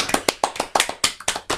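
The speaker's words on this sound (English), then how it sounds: "Everybody applaud." A small group of people clapping in a quick, uneven rhythm, close and alone, with roughly a dozen distinct sharp claps over a second and a half.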